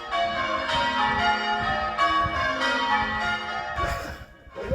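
Church bells pealed by novice bell ringers at a ringing competition, a dense overlapping cascade of tolling strokes ringing continuously and fairly loud throughout.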